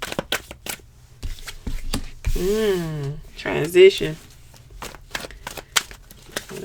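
Tarot cards are shuffled close by in a series of short, crisp riffling bursts, while a person speaks briefly in the middle.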